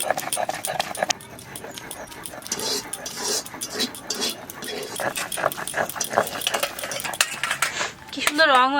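Pumpkin greens frying and being stirred in a pan, with repeated scraping and clinking of a metal utensil against the cookware in an uneven rhythm, close and moderately loud, while a faint voice and background noise sit underneath.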